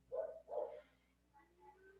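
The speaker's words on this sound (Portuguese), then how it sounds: "minha cachorra está latindo, não sei se está atrapalhando vocês" A dog barking indoors somewhere in the home, two short muffled barks close together followed by fainter whimpering tones, quiet and somewhat distant, with no talk.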